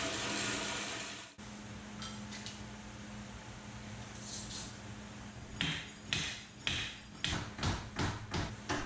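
Wooden 2x4 shims being tapped in under the legs of a mitre saw station, a run of sharp, evenly spaced knocks near the end that follow a steady low hum, close and fairly loud.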